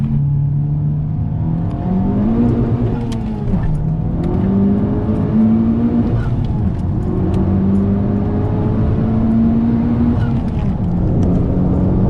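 A Nissan S14 engine revs and pulls hard, its pitch climbing through gears with brief dips at shifts, loud and steady throughout.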